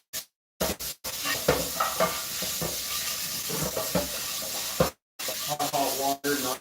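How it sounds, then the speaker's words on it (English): Hot scalding water runs over a non-stick frying pan being rinsed, a steady close hissing splash with brief interruptions as the flow stops and restarts. "Hot scalding water, there you go."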